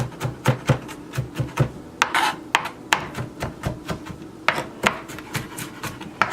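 Fresh garlic rubbed against a kitchen grater for a home-cooked Cornish hen, giving a steady run of short scraping rasps in quick rhythm, close and fairly loud, with no voices.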